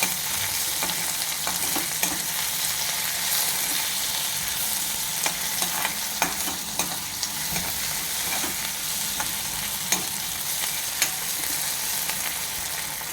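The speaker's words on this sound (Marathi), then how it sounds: "आपण टॅमॅटो जरा परतून घेऊया थोडेसे." Tomatoes and onions sautéing in a pan for a spicy brinjal bhaji, a steady close sizzle with scattered stirring scrapes and clicks running throughout, no voices.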